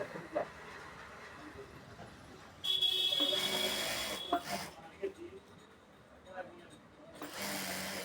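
A sewing machine stitches elastic and lace onto a palazzo pant in short bursts of rapid mechanical whirring, with stretches of quieter handling between them and someone talking throughout.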